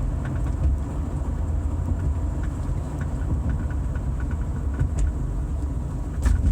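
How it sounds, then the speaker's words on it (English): Inside a vehicle driving on local roads, a steady low road-and-engine rumble fills the cabin, with occasional faint clicks and rattles poking through now and then. "Hear kind of a rattle."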